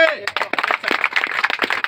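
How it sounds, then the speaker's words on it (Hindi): Scattered audience clapping breaks out at a business talk, with irregular, moderately loud claps rattling for under two seconds after a brief voice. "ताली होना चाहिए"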